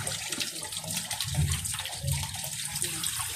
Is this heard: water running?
yes